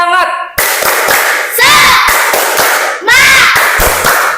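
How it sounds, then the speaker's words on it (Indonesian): A classroom group claps a spirit clap in several loud, rhythmic bursts of hand claps, with short breaks between them and children's voices mixed in. "coba tepuk semangat"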